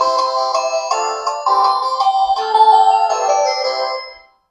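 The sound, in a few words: ringtone playing on Itel Power 700 keypad phone speaker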